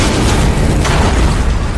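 A massive blast as an explosive-laden plane detonates inside Godzilla's head in a Godzilla film, a loud, sustained roaring boom filling the whole short stretch with no break.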